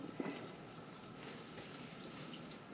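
Water runs from a motorhome tap with the onboard water pump switched on, a steady, soft, splashing flow that stays quiet and even from start to finish.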